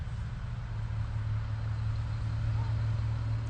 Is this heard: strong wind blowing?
no